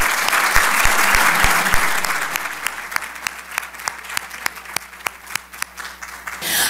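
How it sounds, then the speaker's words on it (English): Audience applause for both candidates at a candidates' forum, a dense wash of clapping that swells and then thins out to a few scattered, distinct claps toward the end. "please join me in a round of applause for both"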